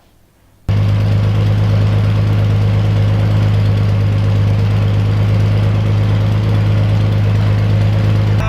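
A Datsun 280Z engine starts after cranking and settles into a steady, loud idle, running close by and alone after a brief quiet moment, with no talking.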